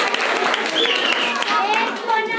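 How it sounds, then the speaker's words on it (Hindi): Schoolchildren clap together in a government upper-primary school classroom in Dehradun, a steady wash of applause mixed with children's voices calling out. "एक बार तालियां सब बच्चे बजा दीजिए।"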